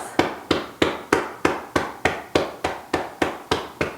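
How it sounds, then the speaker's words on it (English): A hand taps on the body in a steady, evenly spaced series of about a dozen soft, close thumps, with nothing else heard. "tapping 10 times."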